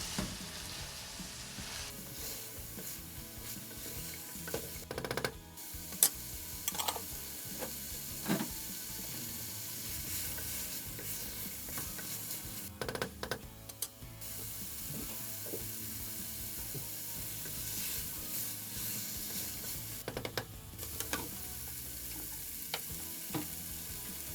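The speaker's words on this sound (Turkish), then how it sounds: "Şu an üzerine suyunu süzmüş olduğumuz barbunyalarımızı da ilave ediyorum. Ve hepsini böyle bir dakika kadar bu şekilde kavuruyorum." Drained borlotti beans sauté with onions in a pot, a quiet steady sizzle broken by occasional stirring scrapes and knocks over about twenty seconds, with no speech.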